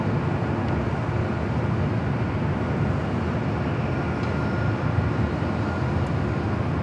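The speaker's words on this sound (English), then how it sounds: "This is the One World livery on this 777 at" Boeing 777-300ER airliner in oneworld livery taxiing at Los Angeles International Airport toward the Tom Bradley International Terminal, a steady, loud, continuous jet engine rumble with no break throughout.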